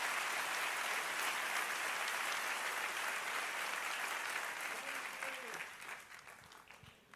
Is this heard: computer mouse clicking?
no